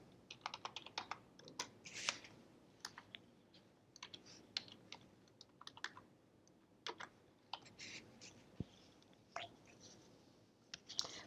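Fingers tap a computer keyboard in quick, uneven bursts of sharp clicks, entering an API name for a demo trading account; close and fairly quiet, with no talking.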